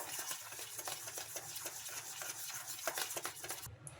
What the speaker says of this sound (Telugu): ఇంకా ఇలా ఎక్కడ ఉండలేకుండా బాగా కలిపేసుకున్న తర్వాత